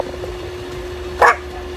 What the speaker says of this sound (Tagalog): tumatahol si Baste.